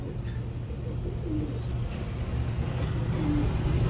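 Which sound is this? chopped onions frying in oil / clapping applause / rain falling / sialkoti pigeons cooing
sialkoti pigeons cooing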